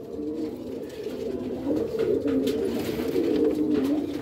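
Soft, continuous cooing from many pigeons kept in a rooftop loft, a low rolling murmur close by that swells slightly partway through, without any voices.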